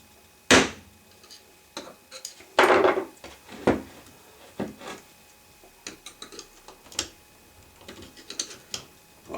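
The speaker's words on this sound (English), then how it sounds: "then you can just get the screwdriver in there and start prying up on it" A screwdriver pries at a part on a salvaged 30-inch pedestal fan, giving irregular sharp clicks, scrapes and knocks at close range with short pauses between them.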